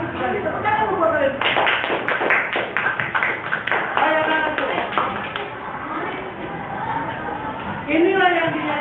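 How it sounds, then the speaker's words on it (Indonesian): Students clapping their hands in a classroom during a computational thinking lesson, a burst of irregular claps and taps with a voice speaking over them, then a brief renewed flurry near the end. "Tepuk tangan buat kalian."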